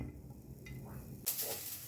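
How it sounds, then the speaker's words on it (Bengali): Steady sizzling of onions frying in oil, with a brief stirring scrape and a sudden louder burst of crackle near the end. "এইবার তেলের মধ্যে পেঁয়াজ দিলাম।"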